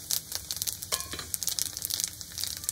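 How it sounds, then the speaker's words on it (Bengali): Whole spices (nigella, carom, fennel and cumin) hit hot oil in a pan and sizzle and crackle loudly up close, with sharp pops over a steady frying hiss, no talking. "ওই গরম তেলের মধ্যে আমি দিয়ে দেব কিছুটা ফোড়ন"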